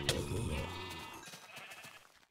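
A white sheep in the Minecraft video game gives one loud, close bleat with a wavering tone that trails off and fades over about two seconds, alone without talk.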